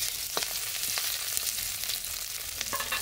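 Mustard fries in a pan with a steady, dense sizzle, broken by a few sharp crackles and pops close at hand, and no voices over it.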